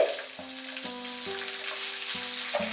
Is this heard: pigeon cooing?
no